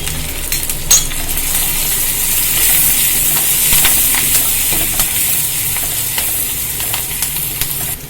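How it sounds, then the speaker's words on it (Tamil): Onions sauté in a pan with curry leaves, curry masala powder and crushed cardamom, making a loud, steady sizzle with occasional stirring scrapes. "வெங்காயம் வதங்கிடுச்சுப்பா,"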